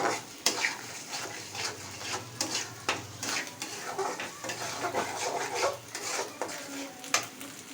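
Eggs being stirred into noodles in a pan, with repeated scraping and clinking strokes of a utensil against the pan and a low hum beneath, fairly close and moderately quiet.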